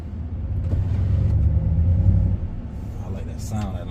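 A 2023 RAM 1500 Big Horn Night Edition truck engine rumbles deep and steady nearby, swelling then easing off, with faint voices toward the end.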